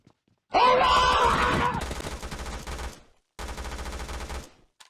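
Gunfire from the video game PUBG Mobile (update v0.19.0), a long, loud burst of rapid shots followed after a short pause by a second sustained volley.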